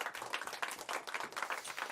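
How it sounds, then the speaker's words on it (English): A canned applause clap track sound effect plays during a podcast: dense, crowd-like clapping that holds steady at moderate level for about two seconds. "She gave herself a clap track."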